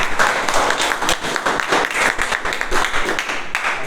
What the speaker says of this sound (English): Please have a round of applause for you.